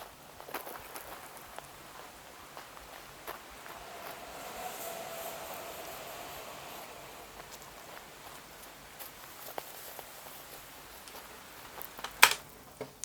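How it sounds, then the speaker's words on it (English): A soft, steady wash of a water stream runs beneath scattered footsteps crunching in gravel, quiet and fairly close, with one sharper crunch near the end and no voices. "I used the Water Stream and the Walking in Gravel."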